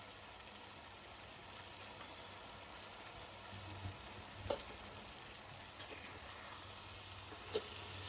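Fresh bay leaves sizzle in hot oil: a faint, steady frying hiss with a few soft pops and crackles scattered through it, and no voices.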